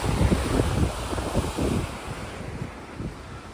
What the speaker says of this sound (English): the river seems to be flowing quite well today